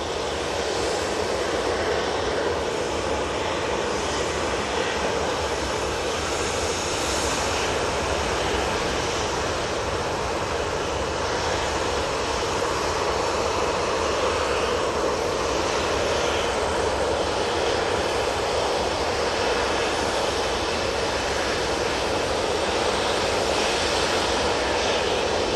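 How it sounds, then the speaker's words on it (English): An Ethiopian Airlines Airbus A380 arrives at Manchester Airport, its jet engines a broad, steady roar that fills the whole stretch with a faint windy hiss over it and no voices. "Ethiopian Airlines A380 coming in from Marseille"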